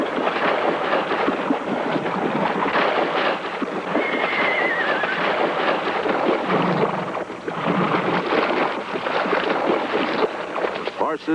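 Wild horses racing toward a water hole in the badlands, a dense continuous rumble of hooves with a whinny partway through, loud and near, mixed with wind noise over the microphone.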